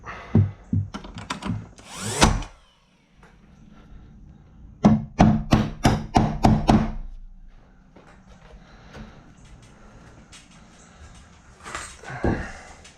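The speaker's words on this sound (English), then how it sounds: "nailer with 2-inch 15 gauge straight brad nails, and I'm nailing each one in each rafter in the tongue" A cordless brad nailer fires 2-inch 15 gauge straight brad nails into rafters, with sharp, loud snapping shots in quick bursts, including a rapid run of about six, separated by quieter stretches of handling and shuffling.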